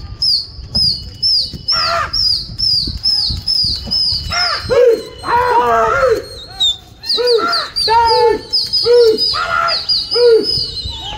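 Racing pigeons in Amroha coo in repeated throaty bursts close by, mixed with sharp chirps and brief flutters of wings, the calls coming in irregular clusters over a quiet background.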